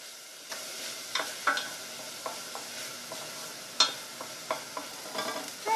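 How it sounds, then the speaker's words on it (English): Shallots sauté in a pan, with a soft continuous sizzle broken by sharp clicks and scrapes as a utensil stirs them now and then, close and fairly quiet with no talking. "I'm just going to saute the shallots until they have started to get a little bit clear"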